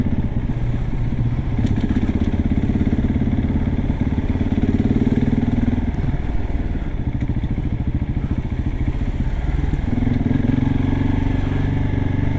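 A 2022 KTM 690 SMC R single-cylinder motorcycle is ridden through traffic, its loud engine chugging and rising and falling with throttle changes, close and continuous throughout.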